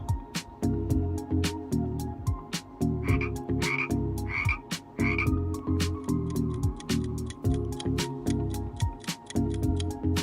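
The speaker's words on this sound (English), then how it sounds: "Time's up. Frog." A frog croaks in a steady run of deep, rhythmic calls, loud and close, with sharp clicking ticks spaced through it and a few higher chirps midway.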